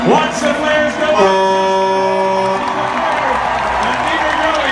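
A crowd cheers and applauds at a roughneck drilling competition finale, sustained loud cheering with a steady tone running underneath and a commentator talking over it.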